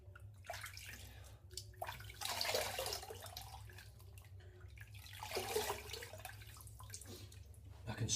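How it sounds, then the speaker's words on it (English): Water splashing at a bathroom sink as a face is wetted before shaving with soap and brush, with a few brief bursts of splashing over a steady low background hum. "Just going to wet my face."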